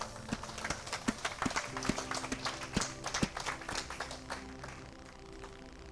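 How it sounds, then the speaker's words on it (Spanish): Congregation applauding in a church, a dense patter of claps with sharp irregular peaks, fairly close and steady for several seconds. "¿Por qué no le das un aplauso al Rey?"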